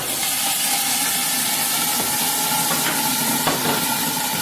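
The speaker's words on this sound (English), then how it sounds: "And that's going to steam the gyoza. It's going to cook all the way through." Gyoza steaming loudly in an oiled pan, a constant strong hiss and sizzle close up with a few sharper crackles, no voices.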